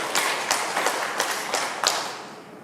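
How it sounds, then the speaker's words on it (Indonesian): An audience at an Indonesian prosecutor's office outreach event in Teluk Wondama gives a modest round of applause, a few faint, spaced bursts of clapping that fade out with no talking over them. "Mari kita beri tepuk tangan untuk beliau."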